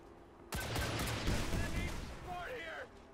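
Sudden loud burst of incendiary fire in XCOM 2, a sustained crackling roar lasting a couple of seconds before cutting off, with faint tonal game sounds near the end.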